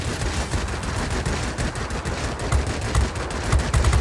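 Sustained machine gun fire from an IL-1 Sturmovik attack plane in the World of Warplanes game, continuous dense rattling bursts under steady engine drone, loud and close throughout with heavier thumps near the end.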